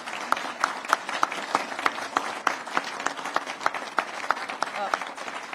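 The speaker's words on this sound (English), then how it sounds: "I'm glad you're clapping" Audience clapping at a college event during a state funding announcement, a moderate patter of hands with distinct rhythmic claps standing out, fairly distant and steady, with a voice speaking over it.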